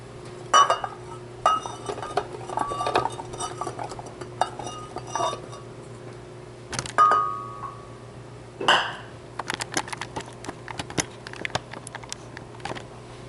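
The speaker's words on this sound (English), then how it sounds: "Load it in the blender." Turmeric, ginger and extra virgin olive oil are loaded into a blender jar in a kitchen, with close clinks and knocks of utensils against the jar, sporadic and uneven, plus a short pouring swish.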